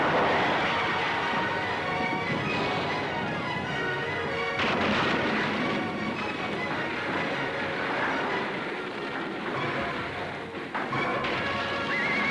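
Mexican Revolution battlefield with artillery and early rocket fire booming under a dense, continuous din, with horses neighing and hooves clattering throughout and sharper blasts bursting out now and then.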